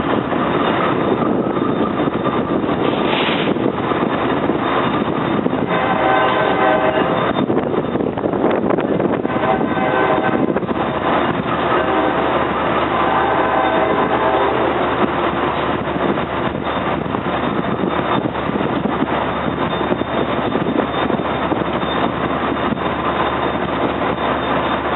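A train rolls past on the tracks near an elevated rail line, giving a steady loud rumble and rattle that holds for the whole stretch with no speech.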